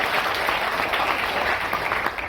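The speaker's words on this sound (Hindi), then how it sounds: "जोरदार ताली एक बार" Loud, dense clapping fills a motivational seminar hall in Indore, a steady wash of many hands with no gaps, close and full.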